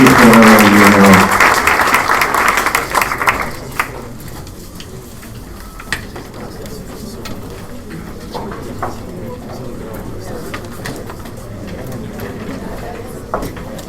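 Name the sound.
audience applause for panel speakers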